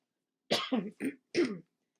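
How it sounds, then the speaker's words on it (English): A person coughs four times in quick succession, close and fairly soft, with short pauses between. "This little cough just won't go away."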